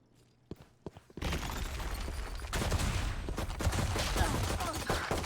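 Rapid gunfire crackles nonstop after a few isolated shots, dense and loud, with bursts layered over one another in a Valorant esports match firefight.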